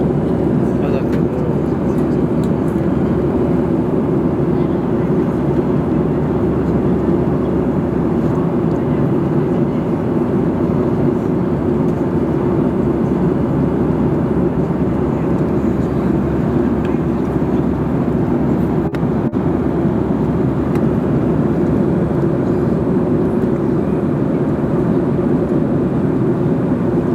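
Steady airliner cabin drone during a flight from Hangzhou to Incheon, a constant loud low roar filling the whole stretch with no clear talk over it.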